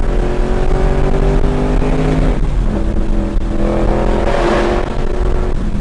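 Manual Ford Mustang Mach 1 with handling pack, Cook's catted headers and an inner chiller, making over 825 wheel horsepower, revving loudly close by, its engine note climbing and falling through several strong pulls.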